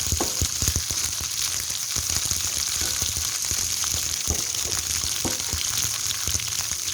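Cut okra sizzles steadily in oil in a pan over a low-medium flame for masala bhindi, a continuous frying hiss broken by occasional stirring clatters from a utensil.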